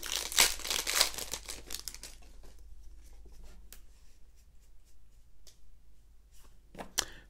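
A Magic: The Gathering Theros Beyond Death booster pack wrapper is torn and crinkled open up close, with bursts of crisp foil rustling that fade into quieter handling of the cards.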